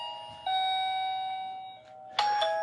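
An indoor chime unit paired with a wireless video doorbell rings inside the house, playing a sustained electronic tone followed by a brighter, higher double ding near the end, clear and close without voices.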